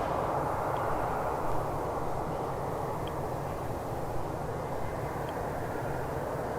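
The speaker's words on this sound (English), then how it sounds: "We have got an Alaskan 737 MAX 9 heading down the runway as well now." An Alaska Airlines Boeing 737 MAX 9 jet rolls down the runway on takeoff, a steady broad engine roar heard from a distance, constant and unbroken with no talking.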